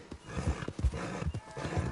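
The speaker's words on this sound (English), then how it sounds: "Why are you freaking out, horse?" A spooked horse in Red Dead Redemption 2 snorts and whinnies in agitated bursts, with heavy thudding movement close by and no talking.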